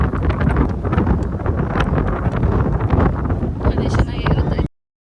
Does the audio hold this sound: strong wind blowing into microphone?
yes